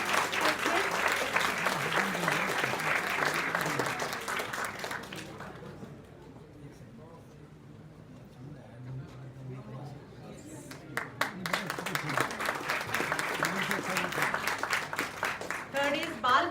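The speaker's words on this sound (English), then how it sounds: "Let's have a good round of applause for them." An award ceremony audience breaks into a long round of clapping, loud and dense at first, fading to a lull mid-way, then swelling back up again, with voices faintly underneath.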